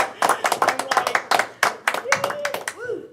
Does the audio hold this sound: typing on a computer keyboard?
no